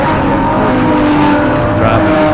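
Monaro touring race car idling at low revs after dropping them, engine rumbling steadily and close without pulling away, with faint commentary voice underneath.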